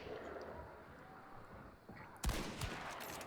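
A Krag rifle fires once in a World War I video game, one sharp loud crack cutting through quiet background noise and faint distant gunfire.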